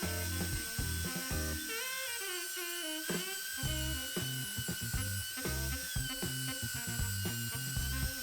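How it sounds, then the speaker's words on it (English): A router fitted with a 1/2 inch straight bit and guided along a straight edge cuts rabbets into the edges of a wooden assembly-table bottom, giving a loud, steady high-pitched whine that runs the whole time while lower tones shift underneath. "I went back with a 1/2 inch straight bit and a straight edge to make the rabbets in the edges"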